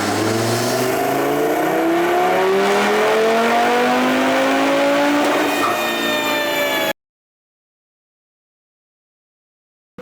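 An Audi RS3 on a chassis dyno, its engine revving hard in a long rising pull as the pitch climbs steadily, loud and close, then cutting abruptly to silence.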